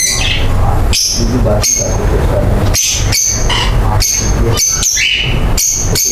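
Lovebirds and cockatiels in an aviary setup, including blue opaline, pale fallow, parblue and green opaline birds, keep up loud, close, overlapping chirps and shrill calls throughout with a steady background chatter.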